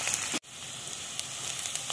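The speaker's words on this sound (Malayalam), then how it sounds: "നാളികേരം ഒന്ന് മൂക്കണ വരെ ഒന്ന് നന്നായി ഇളക്കി കൊടുക്കുക" Grated coconut frying in a pan with shallots, a steady close hiss of sizzling oil broken by one brief gap as it is stirred, continuing evenly without talk.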